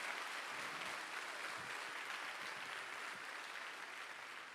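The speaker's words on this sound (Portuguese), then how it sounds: "aplauda o Senhor, meu irmão" A church congregation applauds during a Portuguese-language worship service, a continuous, even wash of clapping that sounds fairly distant and quiet and holds steady for several seconds.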